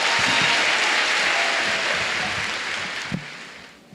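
Applause from an audience at a school district's spring recognition night honoring students, a steady broadband patter that fills the room and slowly fades toward the end.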